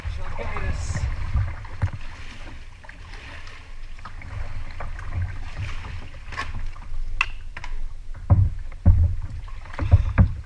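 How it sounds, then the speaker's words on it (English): A kayak paddles on the sea off Costa Brava near San Feliu de Guixols, with irregular paddle splashes and water sloshing against the hull under steady wind buffeting the microphone. "All right, we're getting ready for the kayaking"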